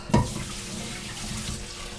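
Korean cold noodles rinsed under a running kitchen tap, a steady splashing stream of water into a sink after a brief louder gush at the start, close and continuous with no talking.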